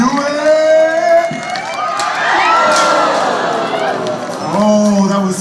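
A live crowd at an XPOGO pogo stunt show at a fair cheers and shouts continuously, with children's whoops and excited voices rising and falling over several seconds, loud and close, surrounded by chatter.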